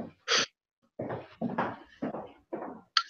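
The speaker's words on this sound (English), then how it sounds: "I don't know what you guys are barking at." Dogs indoors let out a series of short, sharp barks and huffs, about five separate bursts spaced evenly, fairly close and loud against otherwise quiet surroundings.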